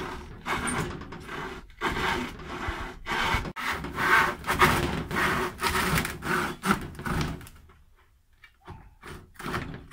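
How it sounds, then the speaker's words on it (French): A hand saw cuts through wood in steady back-and-forth strokes, loud and close, with a brief pause before the final few strokes. "je pense qu'il faudra utiliser la scie égoïne."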